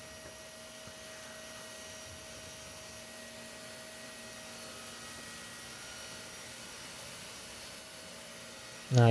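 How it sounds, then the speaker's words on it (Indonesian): A gas turbine runs under test with fuel flowing, giving a loud, steady whine with constant tonal lines over broadband roar, unchanging throughout. "yang pasti suara dari turbin gas ini sangat bising ya"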